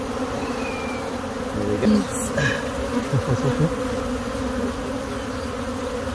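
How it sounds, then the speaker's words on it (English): Honeybees swarm around a tree during a removal, a dense steady buzzing hum that runs throughout with brief louder passes close by, and a voice speaks briefly. "Of bees and swarming through the trees."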